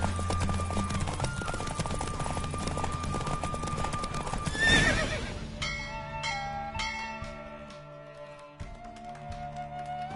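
Horse hooves clattering in The Witcher on PS4 during a race, with rhythmic clip-clop, a neigh, and game sounds like bells and taps toward the end.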